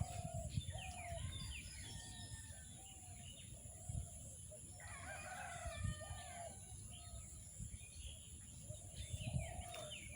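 Wading birds, including stork-like birds with big bills feeding on fish and snails, call near a drying river, with repeated calls at middle distance over rustling ambient noise.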